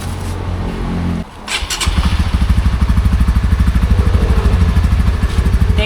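A Honda Winner X motorcycle cranks with a brief starter whirr, then catches and settles into a loud, steady, rapidly pulsing idle close by, with exhaust thump dominating throughout.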